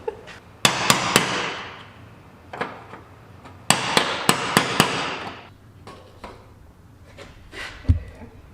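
Hammer blows on metal parts while a fuel pump is being replaced on a 1989 Ford F150 fuel injection system. Sharp, loud strikes come in quick irregular bursts, separated by quieter pauses of shop background.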